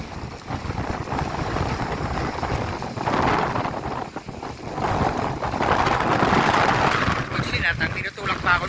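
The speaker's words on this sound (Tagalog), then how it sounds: "Lakas ng hangin" Strong typhoon wind roars and buffets the microphone by Manila Bay, with gusts swelling and fading over a steady rushing background.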